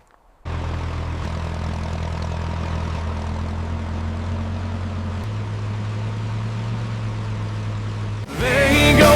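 An old Farmall tractor engine runs steadily and close by with a low, even chugging drone, shifting pitch partway through as it pulls away, before a louder, different noise takes over at the end.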